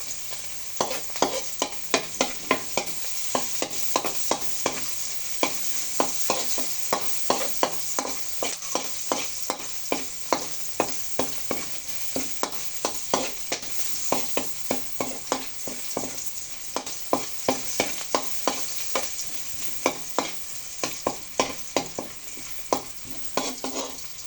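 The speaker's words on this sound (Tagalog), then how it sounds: "wait lang po until mag-brown ang ating bawang at sibuyas" Garlic and onion browning in a pan keep up a constant hiss of hot oil, punctuated by quick, regular clicks and taps of a spatula stirring throughout, close and without voices.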